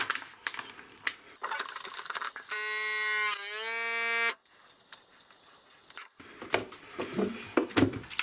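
An electric heat sealer closes a vacuum bag of cured ham with a steady, loud buzzing drone lasting about two seconds, set between softer handling clatter and rustling in a home kitchen.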